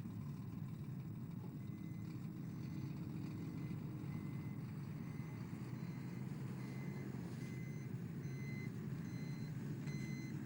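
Repeated reversing beeps of a tow truck in the Sega CD game Penn & Teller's Smoke and Mirrors, a steady series of short, evenly spaced tones over a constant low engine rumble.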